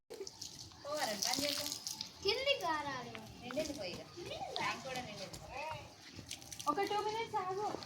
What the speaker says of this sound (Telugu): పైన వాటర్ పట్టేస్తున్నాము టబ్బుల వాటర్లో స్నానం చేసుకుంటుంది